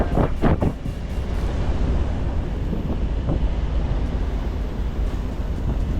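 Gusty wind buffets the microphone aboard a sailing monohull underway at sea, a loud continuous roar with a few rattling knocks near the start.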